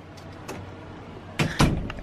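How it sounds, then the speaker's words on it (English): A door is shut with a couple of close, dull thuds and a brief rattle near the end of a quiet moment, following a faint earlier knock. "Shut the door."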